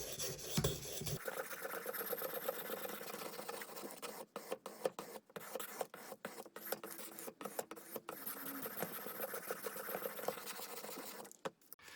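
A Cold Steel 4-Max Scout knife is sharpened on an Edge Pro Apex with a 320 grit stone, giving repeated gritty scraping strokes in a quick rhythm with brief pauses, close and alone.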